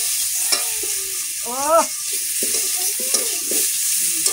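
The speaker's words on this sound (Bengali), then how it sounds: "নাড়াচাড়া করবো, ভালোভাবে ভেজে নেবো।" Turmeric sizzles in a frying pan as it is stirred, a constant hiss with occasional scraping knocks, while a voice speaks briefly over the cooking.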